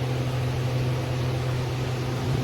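A household air cooler runs with a steady, even whir and hum, loud and close, with no talk heard.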